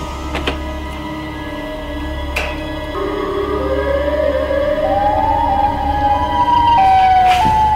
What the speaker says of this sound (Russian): Мне кажется, или сирена уже в доме, а не во дворе?